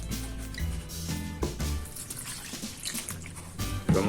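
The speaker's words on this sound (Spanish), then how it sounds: "y a todo esto le vamos a agregar agua." Water trickling and dripping into bread dough made with powdered milk, salt, soft butter and egg in a home kitchen, with light splashes and drips over a background of music.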